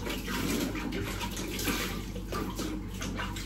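Water pouring steadily from a tap into a bathtub, a continuous close rushing splash that stays even and fairly loud throughout with no talk.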